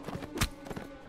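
Horse hooves clatter in a brief rhythmic clip-clop run during mounted combat in the video game Mount & Blade: Warband, fairly close and moderately loud.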